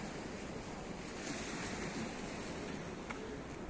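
Steady surf and gusting wind on Levante beach in February, a continuous close wash of waves with wind buffeting the microphone throughout, no voices.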